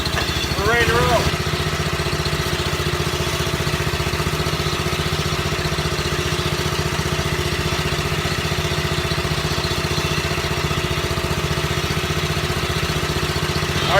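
A coal forge runs at full blast with its air blower going. It makes a loud, steady, engine-like drone that holds unchanged for fourteen seconds, with a brief squeal near the start.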